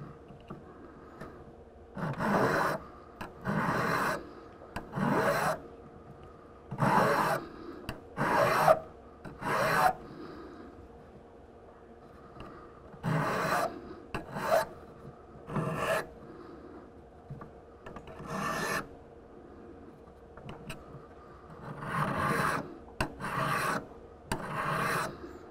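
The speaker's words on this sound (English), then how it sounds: "break the two other angles here and here by filing the same." Hand filing on a small metal jewelry stamp: about a dozen rasping bursts of strokes at an uneven pace, close and fairly loud, with quiet gaps between them and no talking.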